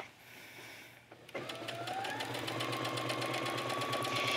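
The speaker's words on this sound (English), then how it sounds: "So what we're just going to do is sew directly next to the foam." A sewing machine stitches sweatshirt fabric right alongside foam for a cosplay garment. After a quiet start it whirs into a steady, rapid needle rhythm with a rising motor whine that runs on without talk.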